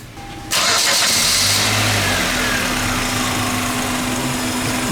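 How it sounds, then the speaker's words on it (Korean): A car engine, just jump-started from another battery, catches abruptly after a brief crank and settles into a loud, steady idle close by. "시동이 잘 걸립니다"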